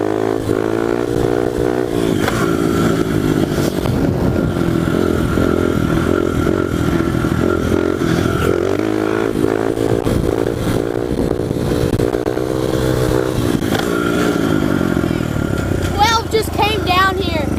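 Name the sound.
pit bike engine revving while riding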